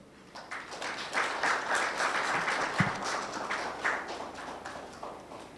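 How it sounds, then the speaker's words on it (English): A conference audience bursts into a round of applause, a dense wash of many hands clapping that swells quickly and holds for several seconds before thinning out. "Another round of applause for Honorable Gladys Wanga."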